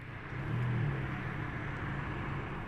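A white Lamborghini Temerario hybrid with silver wheels and red calipers pulls away, giving only a soft, low rumble that stays quiet and steady.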